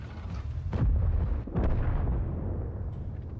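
Heavy tank main gun fire in World of Tanks from a VK 72.01 K, two deep booming blasts about a second apart, each rolling into a long rumbling decay, loud and close with no talk.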